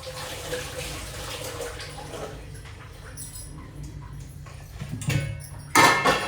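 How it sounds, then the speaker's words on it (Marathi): Hands are washed under a running tap: a steady hiss of water at first, then thinner trickling, ending in a few louder splashes and gushes close by. "हात धुवून घेते."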